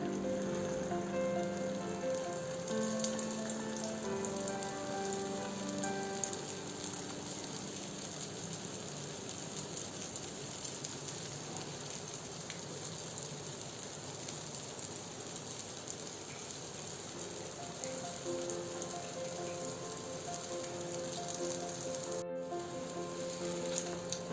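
Mutton samosas deep-frying in hot oil, a continuous, even sizzle and crackle with a fine spattering texture, steady and moderately quiet for the whole stretch, with no talking.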